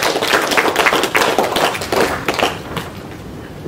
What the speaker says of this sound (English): let's give a big clap to ExxonMobil